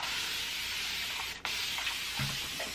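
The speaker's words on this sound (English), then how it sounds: "I'm just going to spray my face with water" A fine water mist is sprayed onto a face, giving a soft, steady hiss close by with a short sharper burst midway and faint handling noises after.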